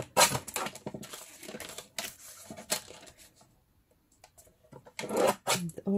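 Scissors cut the sides of a paper envelope flap for an art journal in bursts of crisp snipping and rustling, some soft sounds between the cuts, close by.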